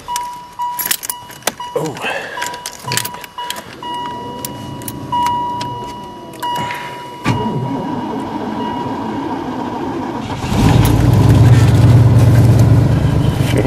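A Chevrolet Caprice engine cranks and fires on a cold start with the choke set, sputtering at first and then settling into a loud, rough, steady idle close by, with a brief spoken exclamation early on.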